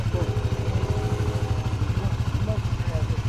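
A dirt bike engine idles close by with a steady, throbbing low chug, and people talk over it.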